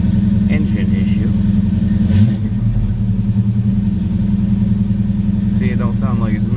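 A car engine runs steadily through an injector test, a continuous low harmonic drone with a slight pitch dip partway through, while someone talks over it near the start and end.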